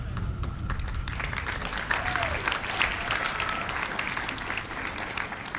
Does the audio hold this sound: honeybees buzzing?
no